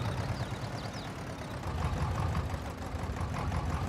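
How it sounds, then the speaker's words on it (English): A modded farm vehicle in Farming Simulator 22 idles with a steady, low, rumbling hum. It is fairly quiet and continuous, with no speech over it. "Very nice engine sounds in this thing."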